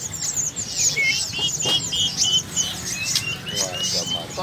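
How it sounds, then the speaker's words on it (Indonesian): Many caged birds chirp and trill at once at a bird market in Slawi, Tegal, Central Java, bright overlapping calls over a low background murmur. "Ini burung derut."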